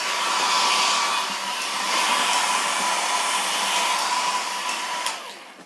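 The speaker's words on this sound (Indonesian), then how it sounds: "Nah, kita mulai dari hair dryer ya kan." A hair dryer blows steadily and loudly for several seconds while drying a civet's fur after a rainy-season bath, its broad whooshing airflow staying even before tapering near the end.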